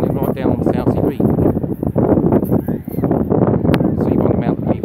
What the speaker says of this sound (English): Currently, it's very windy down there,